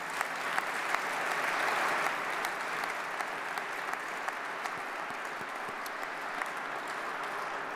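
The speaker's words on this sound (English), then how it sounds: "Let's give them all a round of applause if you would." Audience applause fills a hall at a state capitol centennial celebration, a steady wash of clapping hands with no voices over it, moderately distant and even throughout.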